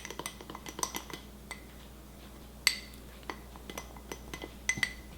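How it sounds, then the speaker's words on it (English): A spoon stirs cookie butter into warm milk in a glass, giving repeated light clinks and scrapes against the glass in an irregular rhythm, close and fairly quiet, with no talking. "And then just give that a stir. Make sure all that cookie butter is melted."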